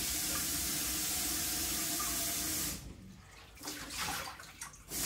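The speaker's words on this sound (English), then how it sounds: "I'm going to rinse this out." Tap water runs steadily over a container being rinsed out for about three seconds, then cuts off. Softer clattering and dripping follow.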